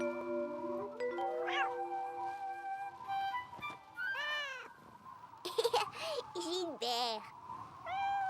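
A cartoon cat meows and yowls in fear during a thunderstorm, several rising and falling cries heard near and fairly loud among children's voices and music.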